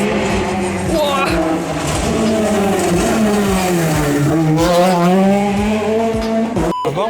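A Peugeot 208 rally car roars past close by at a Quercy rally stage, its engine pitch climbing and falling loudly as it accelerates through, with spectators exclaiming over it.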